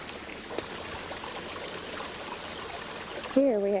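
Creek water running over rocks along a woodland trail, a steady close trickling rush, with a person starting to speak at the end.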